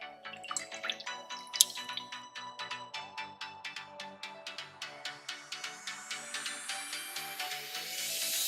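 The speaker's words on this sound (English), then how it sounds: "We'll continue stirring until it gets thick." Condensed milk with sugar being stirred in a pot, a spoon scraping and clicking against the pot in a steady, regular rhythm of close strokes that gradually quicken.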